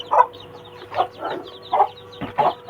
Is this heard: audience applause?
no